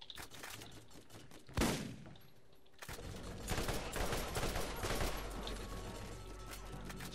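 Gunfire from a gun in the Borderlands video game, a dense run of shots with one loud burst early, a brief lull, then sustained rapid firing against a busy game soundscape.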